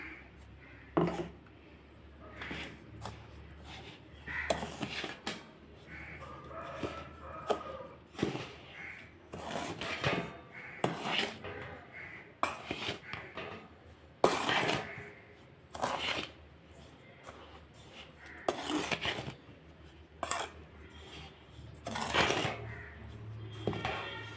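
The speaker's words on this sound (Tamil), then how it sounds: "இப்போ மிக்ஸ் பண்ணியாச்சு சர்க்கரையும் ரவையை ரெண்டுமே மிக்ஸ் பண்ணியாச்சு" Semolina and powdered sugar being stirred together for rava laddu, heard as soft, irregular scraping and rustling strokes in a bowl, faint and close with no voices.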